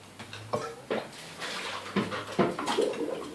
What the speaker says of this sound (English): Empty this liquid out into the sink and get it out of the way.